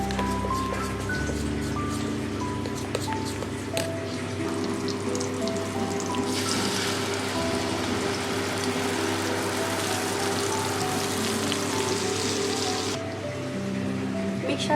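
Spice paste mixture poured into hot oil for an ilish (hilsa) fish jhal, giving a steady, loud sizzle and crackle that runs throughout, swelling for a stretch in the middle, with no talk over it.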